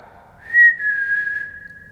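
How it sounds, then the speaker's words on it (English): A single sustained human whistle, a steady high tone held for over a second, loud and close with little background noise. "What if we whistled? Would you whistle back?"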